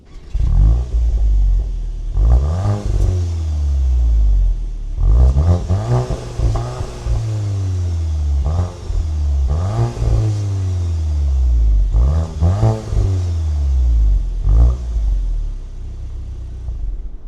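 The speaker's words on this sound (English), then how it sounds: "let's do a quick listen to the exhaust so you can hear that real quick" A 2025 VW GTI exhaust revved repeatedly while parked, each throttle blip rising sharply and falling back over a low idle rumble, with about seven loud, evenly spaced revs close by and no talking.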